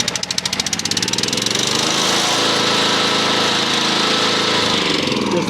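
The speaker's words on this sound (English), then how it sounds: "It's a lawnmower." A remote-controlled SDLLM500 lawn mower engine runs loud and steady close by, starting with a quick pulsing rhythm that smooths into a continuous rough roar with no speech.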